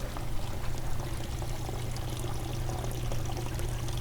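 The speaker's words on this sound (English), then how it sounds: "And the water returns into a storm gutter" Water pours steadily from hydroponic buckets into a sloped storm gutter that returns it to a sump, a continuous close trickling and splashing with no talk.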